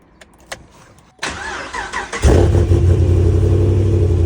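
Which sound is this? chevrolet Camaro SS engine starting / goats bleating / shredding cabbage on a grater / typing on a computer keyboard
chevrolet Camaro SS engine starting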